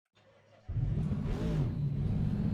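An Aston Martin race car in a racing game on the Paul Ricard circuit, a quiet idle swelling abruptly into a loud sustained engine roar with a rising sweep as it pulls away.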